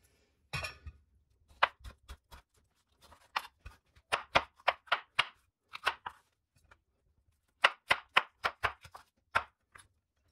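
Knife chopping vegetables into pieces for paratha filling on a board, in sharp rhythmic bursts of quick cuts with short pauses between runs, close and fairly loud with no talking.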